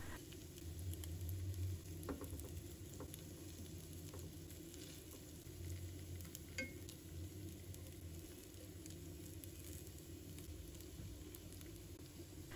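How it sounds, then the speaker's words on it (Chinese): Potato cakes pan-fry slowly in a pan over medium-low heat, giving a soft, steady low sizzle with faint crackles and occasional light scrapes as a spatula turns them, with no talking. "开中小火把它慢慢的煎制，用铲子将它慢慢的翻动一下。"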